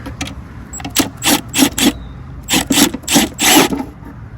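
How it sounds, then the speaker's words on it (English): A T30 Torx bit on a ratchet works a screw loose from the plastic cover on a 2013 Jeep Wrangler Sport, giving close clicking bursts in two rhythmic runs separated by a short pause. "Torx bit, it's going to be a T30."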